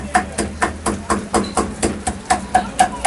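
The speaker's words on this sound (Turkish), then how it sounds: "satır kıyması çeker gibi bu şekilde satırımızla çok ince bir şekilde" A cleaver finely chopping kokoreç on a cutting board, a loud, close series of about a dozen evenly spaced chops in a steady rhythm.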